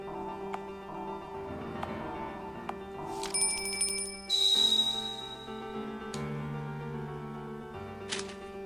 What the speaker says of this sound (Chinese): 那如果在他面前使用铃铛呢